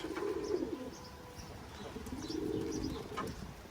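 Pigeons coo in soft, low, throaty phrases close by, with a light chirp and faint wing rustle now and then over outdoor wind.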